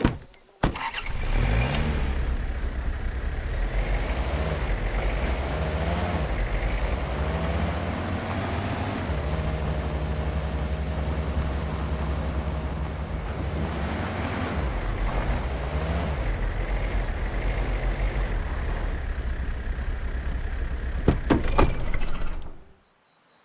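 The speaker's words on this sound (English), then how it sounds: "So I hopped in the car and headed up the hill." A car in the Way of the Hunter hunting game starts and drives uphill, its engine a steady loud hum that rises and falls with gear changes before stopping with a door-like clunk.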